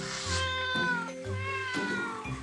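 Two of a mother's house cats meow in a close, indoor setting: two drawn-out meows, each a few tenths of a second long, with a clear harmonic tone and a short pause between them. No talking is heard.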